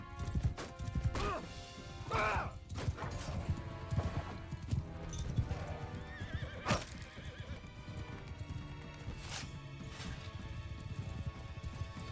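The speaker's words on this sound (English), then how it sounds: "I don't like riding horses." Horse hooves clip-clop in an irregular rhythm during a ride, close and clear, with a horse neighing and sharp knocks and clatters now and then.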